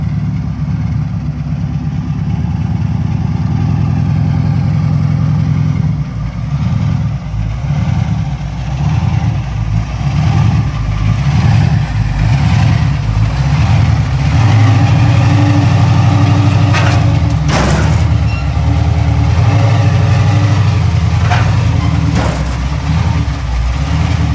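A car with a nitrous system is driven onto a trailer, its engine running steadily throughout with a deep, rumbling idle and slight throttle swells, loud and close, with a few knocks and no talking.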